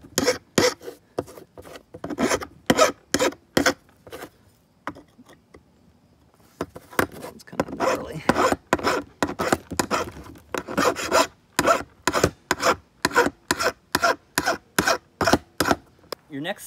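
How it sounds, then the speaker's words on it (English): A metal file rasps burrs off the back of a heavy drilled washer for a bucket thresher build, in repeated quick back-and-forth strokes, loud and close, with a short pause partway through. "If you've got some burrs on the back side like this, you can take them off just with a file."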